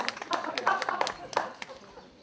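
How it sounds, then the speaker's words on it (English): An audience at a talk gives a short, loose round of clapping: scattered, uneven hand claps over a couple of seconds, moderately close and mixed with some voice. "Yes, applaud yourself."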